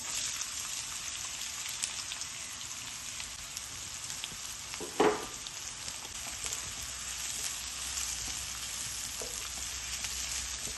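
Onions sizzle steadily in a pan for gobi keema, an even close frying hiss with one brief louder scrape or clink midway, no voices.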